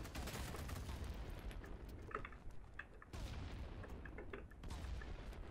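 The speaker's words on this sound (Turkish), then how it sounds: "Çatışma sesleri duyuyorum." Distant combat gunfire in BattleBit Remastered pops in scattered bursts and booms, moderately faint under a continuous battlefield rumble.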